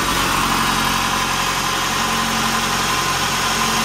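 A 2016 Toyota Camry engine runs steadily at idle, heard up close as a loud, even mechanical hum and whir with no talking.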